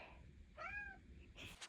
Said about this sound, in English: Oh, the cat's here.